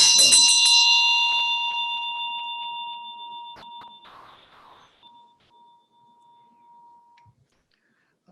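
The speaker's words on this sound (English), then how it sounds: "you ring the bell during that whole mantra" A ritual bell rings during the Medicine Buddha mantra. A bright, loud metallic strike is followed by rapid repeated rings, and the tone then slowly decays over several seconds with light tapping and handling noises.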